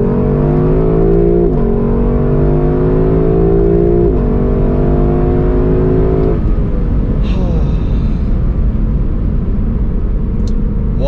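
A 2023 Lexus LC500 convertible's naturally aspirated V8 roars loudly as it accelerates, pitch climbing through several gear shifts, then settling into a rumbling drive with a brief high chirp.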